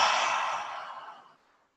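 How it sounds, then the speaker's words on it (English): A deep, breathy exhale during a guided breathing exercise, close and airy, fading out smoothly over about a second and a half with no talking. "inhaling deeply in through the nose. Exhale completely."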